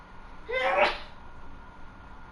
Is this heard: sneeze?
yes